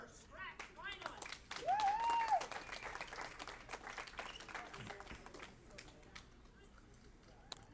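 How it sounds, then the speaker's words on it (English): Scattered, fairly faint applause from bowling fans for four scratch finalists at a youth scholarship tournament final, with loose claps and a brief whistle-like tone, mixed with background chatter and speech. "let's have one more nice round of applause for our 4 scratch finalists"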